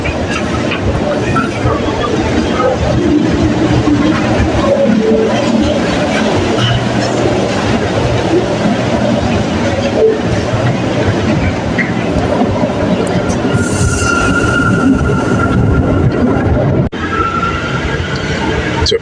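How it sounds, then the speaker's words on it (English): An outbound steam local train runs steadily, giving a continuous rolling rumble with rail clatter and a few high squealing tones toward the end, close and fairly loud throughout. "This is a super outbound steam local train."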